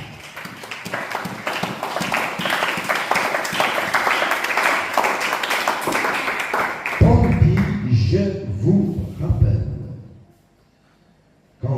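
Church congregation in Pointe-Noire applauding, a dense, steady wash of many hands clapping for several seconds, then giving way to louder singing or voices before fading to near silence.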